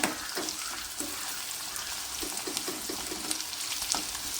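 Onions sauté over a medium flame for a prawn and mango curry, giving a steady close sizzle with light rhythmic scraping and stirring on top. No voices are heard.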